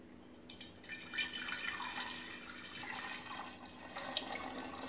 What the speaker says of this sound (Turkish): Süzebildiğimiz kadar süzelim.